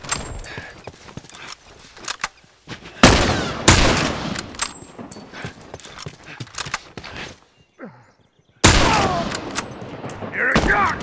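Bursts of gunfire crack out repeatedly, some in rapid volleys, amid hoofbeats and commotion, loud and close with chaotic overlapping impacts.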